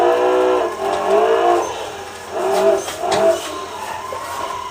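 A car drifts in the BeamNG Drive video game, its engine droning and revving in rising and falling sweeps with a tire-squeal whine, loud and continuous, with no talking.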